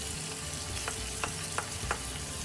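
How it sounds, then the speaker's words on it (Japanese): Garlic and ginger sizzle steadily in a hot pan of oil for dhal curry, with a few short scrapes of stirring breaking through the constant crackle. "周りがジリジリしてきたから、今度は、はい、ニンニクと生姜です。"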